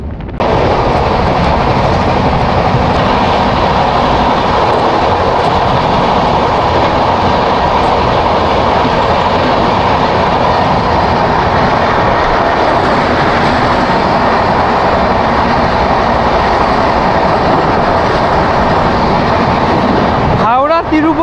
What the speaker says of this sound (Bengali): ট্রেন এখন বালাসোরের আগে চলছে